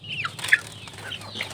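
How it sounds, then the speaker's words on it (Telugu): A hen clucks inside a hatching box holding chicks, giving a few soft, short clucks that stay faint and close against a low background hum, with no talking. "ఇక్కడ లోపల ఒక పెట్ట ఉండిద్ది, దీన్ని చూపిస్తున్నానండి"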